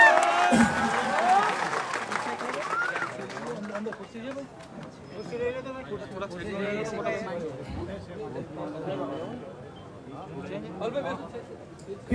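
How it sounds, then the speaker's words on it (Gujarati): Rally crowd applauding to welcome a speaker, a loud burst of clapping and cheering that gives way to crowd chatter and a voice talking over it. "આનંદભાઈ આગનિક તાળીઓથી સ્વાગત કરીએ"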